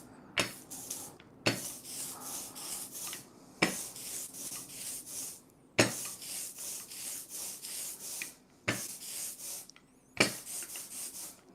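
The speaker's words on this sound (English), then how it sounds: "just add a little bit more ink to the roller." An ink roller is rubbed back and forth over a woodblock print in repeated bursts of gritty, rolling friction, close and fairly loud with short pauses between passes and no talking.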